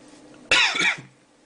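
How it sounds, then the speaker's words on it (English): A single harsh, loud cough from a sore throat bursts out close by, lasting about half a second, followed by quiet. "I've got a really sore throat and a cough"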